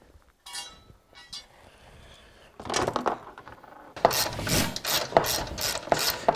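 A wrench tightens half-inch bolts during a QuadBoss ATV plow installation, giving short ratcheting clicks that grow louder and more rapid toward the end, close and without talk.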